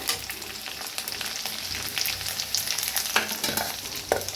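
Onion frying in a pan for a spring-onion dish, a continuous crackling sizzle with frequent stirring scrapes and a couple of sharper clatters near the end, close and unaccompanied.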